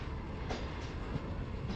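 A slow passenger train car rolls along with a steady low rumble and faint rhythmic rail clatter, heard from inside the carriage with no talking.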